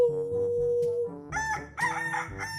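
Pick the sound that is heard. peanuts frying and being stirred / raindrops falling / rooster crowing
rooster crowing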